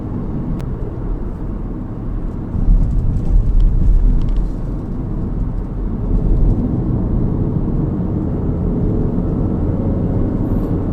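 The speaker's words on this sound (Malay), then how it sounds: "bunyi enjin dia aku rasa agak ketara dengar" Engine noise of a Honda City V sedan heard from inside the cabin while driving, a steady low rumble and road drone that swells slightly now and then, with no talking.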